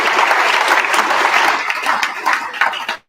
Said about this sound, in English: If we can give them a big applause.